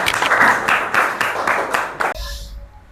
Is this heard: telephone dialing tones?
no